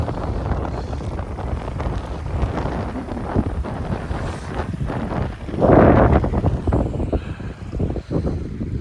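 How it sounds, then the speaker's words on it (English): Wind blows through woods and buffets the microphone in a continuous rough rumble. A stronger gust swells midway, then settles back into a steady blustery roar. "Pretty windy as well."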